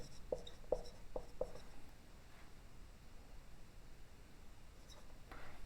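Pen strokes from handwriting during a maths lecture on limits: a quick run of four short scratchy strokes near the start, then near-silence, with a louder scrape at the end.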